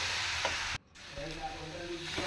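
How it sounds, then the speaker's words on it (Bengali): Raw flour being fried and stirred in a pan gives a steady sizzle with light scraping, broken by a brief dropout near the middle before the frying noise resumes. "ওই কাঁচা ময়দাটা দেওয়ার পর 2-3 মিনিট একটু কিন্তু ভাজা ভাজা করে নিতে হবে"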